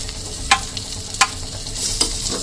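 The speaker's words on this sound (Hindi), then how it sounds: "तो बस ये सालन भी थोड़ा गर्म करके निकाल लेते हैं प्लेट में।" Curry being stirred and reheated in a pan on a stove, a soft continuous sizzle with a few sharp spoon scrapes against the metal, close and fairly quiet.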